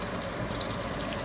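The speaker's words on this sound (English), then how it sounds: "They're frying." Pork fat and a little belly frying in a pan give a steady, close, dense sizzle and crackle with no talk over it.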